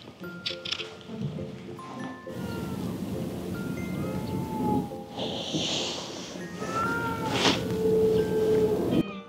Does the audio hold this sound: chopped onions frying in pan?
no